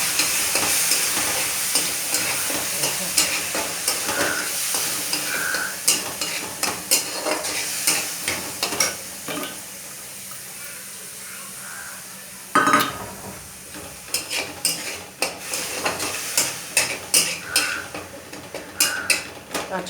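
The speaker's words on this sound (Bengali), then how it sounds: "আর এই কালো জিরে ফোড়ন দিয়ে দিলাম।" Black cumin and spices sizzle and crackle in hot oil, with a spatula scraping and clinking against the pan in steady stirring strokes, close and continuous, pausing briefly near the middle before the frying resumes.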